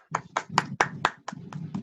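Hands clap after a keynote talk, about eight sharp, close claps in an uneven rhythm, sounding like a single person or a small group rather than a large crowd.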